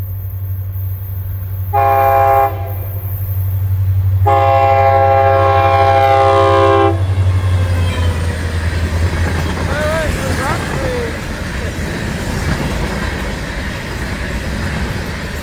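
A local freight train passing a station in Saint Augustine sounds two long, loud, harmonic horn blasts over a steady low rumble of moving cars, and the rolling noise continues after the horn stops.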